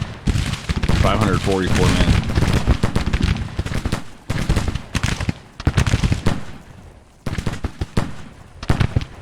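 Volleys of musket gunfire crackle across a Civil War battlefield in Grand Tactician: Civil War, a Confederate 1862 campaign in Kentucky, coming as repeated dense bursts while someone talks over them.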